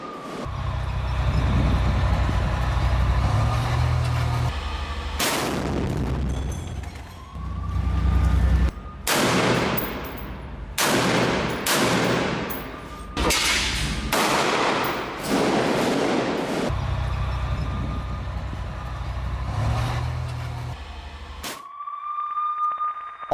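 Gunfire and artillery shelling in Gaza, heard as a series of loud broadband bursts and sharp blasts in the middle of the clip over a steady rumbling background, with a rising siren-like tone at the start and end.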